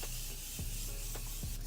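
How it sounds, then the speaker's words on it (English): Short hissing bursts of makeup setting spray pumped from a bottle, several quick sprays close to the mic against steady faint background noise. "So I'm just going in with this spray"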